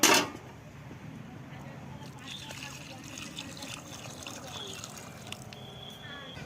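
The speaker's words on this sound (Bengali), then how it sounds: "আমাকে জলটাও সেই পরিমাণে আমাকে বেশি দিতে হবে" Water pouring and trickling into a pot of rice for basanti polao, a continuous splashing stream after a sharp clank at the start.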